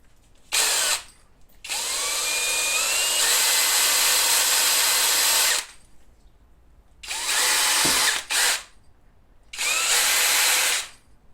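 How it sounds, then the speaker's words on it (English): A power drill bores a hole into wood for a hand-powered kinetic sculpture, whirring loudly in four bursts, one brief and three sustained, with short quiet pauses and a small knock between them. "So I think probably drill a hole about there"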